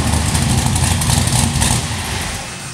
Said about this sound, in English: As you can hear, this custom exhaust sounds absolutely incredible.